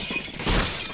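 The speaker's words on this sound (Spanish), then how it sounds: "Ojo, esto rompe los cristales," Glass shatters in a single loud, noisy crash during a competitive shooter match on the Agency map, a brief burst of breaking panes with no talk over it.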